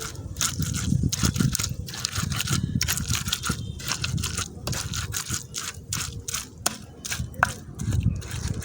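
Ingredients for a khakrul dish are ground into a paste by hand in a village kitchen, a close, steady run of rough rhythmic scraping and crushing strokes with faint talk in the background.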